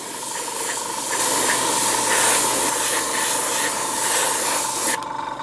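Airbrush spraying paint over a stencil on a model in light passes: a steady, close hiss that keeps on without a break, swelling slightly between passes and shifting tone near the end.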